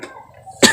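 A single sharp cough breaks out close by right at the end, after a quiet moment, during work on the roof of a small storage shed.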